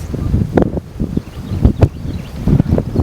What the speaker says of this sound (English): This wind is killing us.